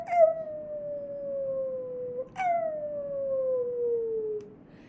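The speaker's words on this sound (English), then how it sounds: "Pongo barked in a special code." Dog howling the twilight bark, two long drawn-out howls that each start with a sharp yelp and slowly slide downward in pitch, clear and alone against a quiet background.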